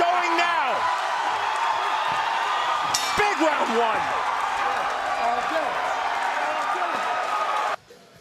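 An Oklahoma crowd cheers at a Bellator 53 MMA fight between Douglas Lima and Chris Lozano, a loud, steady roar with whoops and shoe squeaks under a commentator's talk, dropping away sharply at the end.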